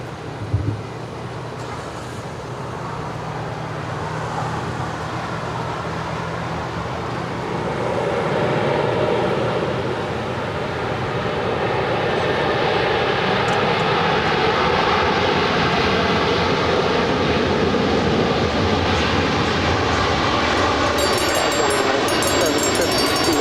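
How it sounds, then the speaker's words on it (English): An airliner lands on runway 25 left at LAX: a broad jet roar swells and then holds steady and loud for over twenty seconds, a continuous wash of engine and rolling noise. "Beautiful landing there on 25 left."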